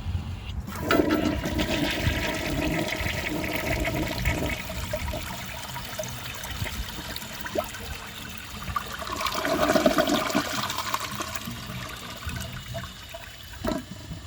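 A 1977 Kohler Highline toilet flushing, with a loud rushing gush of water at the start that settles into steady draining, then a second surge near the end. Gurgles and the tank refilling follow. Nobody speaks.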